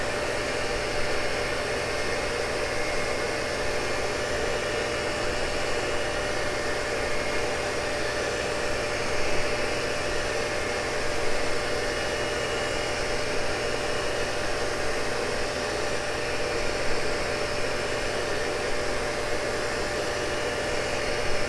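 Cincinnati tool and cutter grinder sparking out a Morse taper, a steady high-pitched hiss and whine of the wheel spinning against the workpiece, continuous and even with no feed, no voices.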